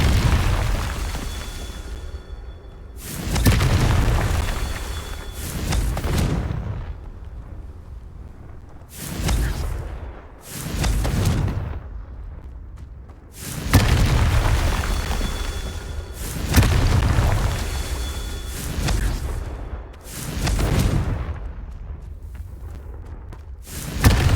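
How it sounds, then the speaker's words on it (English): Repeated Confringo fire-spell explosions in Hogwarts Legacy, a series of heavy booming blasts a few seconds apart, each with a rumbling tail, loud and close with no talk. "Confringo!"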